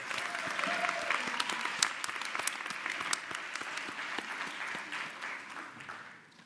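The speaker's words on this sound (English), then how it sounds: "Can we give our announcer a round of applause?" Audience at a nursing college convocation applauds the announcer, sustained dense clapping from a large crowd that gradually tapers off toward the end.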